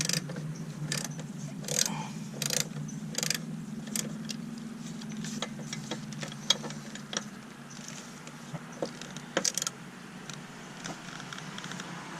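Ratchet wrench loosening 10 mm bolts on a fuel line bracket during an oil catch can install on a 10th gen Honda Civic Sport hatchback, with several quick clicking bursts close by over a low steady hum.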